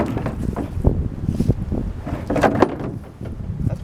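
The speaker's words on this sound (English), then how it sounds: "it is windy today" Gusty outdoor wind buffeting the microphone, a loud low rumble that swells and dips over a few seconds, with faint knocks and handling noises mixed in and no talking.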